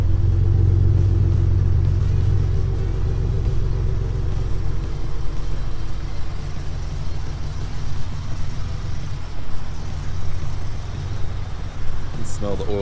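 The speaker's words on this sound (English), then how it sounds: "I was expecting a little bit more of a rumble." The turbocharged engine of a 2019 Ford Raptor pickup rumbles steadily and loudly up close, a deep low drone that holds throughout with some variation, while people talk faintly beneath it.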